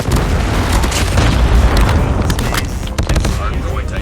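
A Predator missile explodes in a Call of Duty Mobile match, a heavy booming blast with rumbling debris and scattered gunfire-like cracks, with voices in the background.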